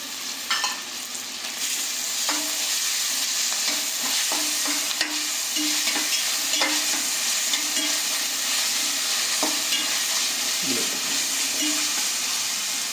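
Ginger garlic paste, chopped green chili and curry leaves fry in a pan for a chicken curry, giving a continuous close sizzle with repeated stirring clicks and scrapes throughout.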